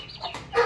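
A white leghorn cross chicken clucks in a short burst at close range, with a brighter cackle toward the end, no voices present.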